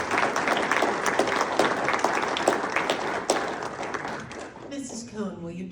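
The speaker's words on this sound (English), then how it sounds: "Let's give both of our foundation board guest speakers one more big round of applause." A big round of applause at a school celebration honoring foundation board guest speakers, dense steady clapping from a crowd filling the hall before fading, with a voice starting to speak near the end.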